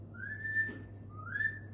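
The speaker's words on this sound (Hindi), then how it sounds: "जब भी सीटी बजाते हैं तो इनको अंदाज़ा हो जाता है कि यार मेरे लिए खाना आ रहा" Two clear, rising whistles from a person calling a cat to its food, close and moderately loud, with a short gap between them over a low steady hum and no talking.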